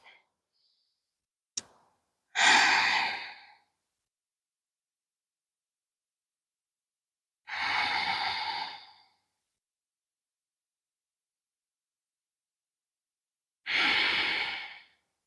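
Three deep, slow breaths during a yoga session, each a long airy exhale about six seconds apart, close and clear against silence, preceded by a small click.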